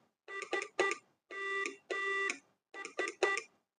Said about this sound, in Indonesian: Mungkin pemirsa yang zaman dulu pakai HP, awal-awal ada handphone, kalau ada SMS bunyinya kan gini.